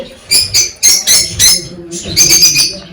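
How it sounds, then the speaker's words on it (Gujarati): Sparrows in a mini zoo bird house chirp in quick, bright bursts, several sharp calls close by, tumbling over one another with short pauses between them. "આ ચકલી જોઈ શકો છો મિત્રો"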